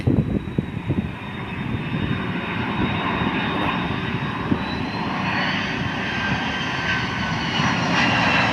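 A large airplane passes over Suvarnabhumi Airport, a loud sustained engine roar that holds steady for several seconds.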